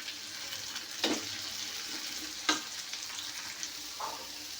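Soft sizzling from a pan of bitter gourd fry as ground spice powder is stirred in, with a few sharp scraping strokes of the spoon standing out above the quiet, steady frying.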